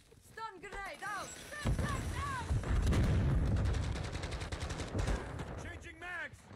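A stun grenade and gunfire in a video game: a dense, loud stretch of booming shots and blasts fills the middle of the clip, with voices speaking before and after it.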